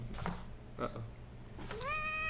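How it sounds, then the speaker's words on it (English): A house cat meows near a tabletop game of Mechs vs Minions, a rising tonal call at the end following softer vocal sounds and background talk. "Kitty wants pets"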